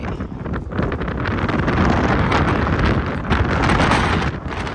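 Strong wind buffets the microphone in a continuous loud roar, with gusts rising and falling throughout, outdoors in Yokohama, Japan.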